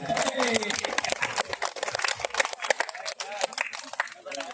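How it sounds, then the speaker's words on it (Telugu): Crowd clapping at a Ganesh last-day celebration in a dense, continuous patter of hands, with voices and bustle mixed in throughout. "క్లాప్ గట్టి కొట్టండి."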